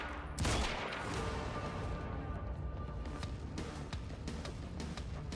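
Continuous gunfire from a shootout in the video game Quantum Break, with dense bursts of shots and rapid cracks layered over a steady, loud barrage that carries on throughout.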